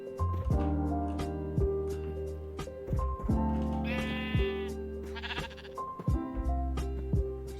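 Repeated sheep bleats from the Minecraft video game, several distinct calls spread across the clip over a steady layered game music or ambient bed, fairly loud and close with no talking.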